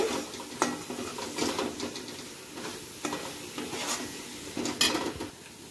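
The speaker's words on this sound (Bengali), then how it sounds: "এবারে সব মশলাগুলোকে একসঙ্গে ভালো করে কষিয়ে নেব।" Ground cumin and coriander stir-fried together in a hot pan, a continuous sizzle broken by repeated scraping strokes of a spoon against the metal, close and fairly loud.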